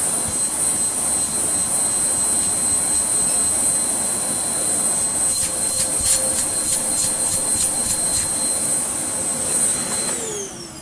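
A Hoover Rapid vacuum cleaner motor whines loudly and steadily close by, its high-pitched drone holding constant before it begins to wind down near the end.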